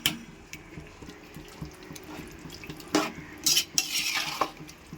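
Biryani masala is stirred and sautéed in a pan: a spoon scrapes and clinks against the metal in irregular strokes over a low sizzle, with a few louder scrapes near the end.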